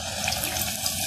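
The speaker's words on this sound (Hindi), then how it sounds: "तेल गरम हो चुका है, अब हम टिक्की को तेल में डाल देते हैं।" Potato tikki frying in a pan of hot oil, giving a steady, dense sizzle and crackle that runs the whole time without any talk.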